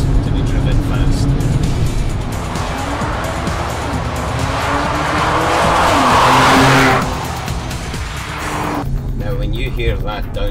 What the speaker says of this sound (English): Then the supercharged V6 3-litre TFSI engine kicks into life.